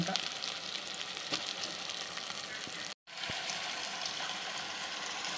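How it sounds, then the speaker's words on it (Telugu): Washed pieces of Rayalaseema-style goat head curry dropped into a hot pan: a continuous, loud, crackling sizzle with a brief break partway through, then a strong resumption. "తలకాయ కూర ఇదంతా దీంట్లో వేసేద్దాం"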